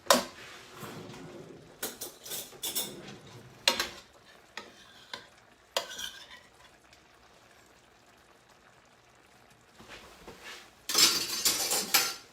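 In a home kitchen, a big spoon is fetched, and cutlery and dishes clatter in sharp, scattered bursts of clinks and knocks close by, with quieter gaps between them and a denser rattle near the end.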